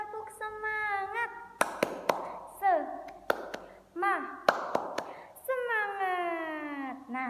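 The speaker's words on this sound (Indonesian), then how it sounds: "Sekali lagi Miss, tepuk semangat." Schoolchildren in an Islamic elementary classroom perform a rhythmic spirit clap: crisp, close hand claps in short bursts alternate with children chanting and singing in unison.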